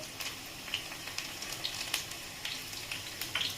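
Chopped garlic frying in oil in a wok for a simple fenugreek-leaf bhaji, a quiet, steady sizzle broken by scattered small pops and crackles, heard alone without talk.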